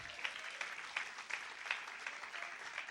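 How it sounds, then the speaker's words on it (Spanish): Church congregation applauding together, a steady wash of many hands clapping at moderate volume with no one speaking over it. "¿Cuántos dan un aplauso al Señor?"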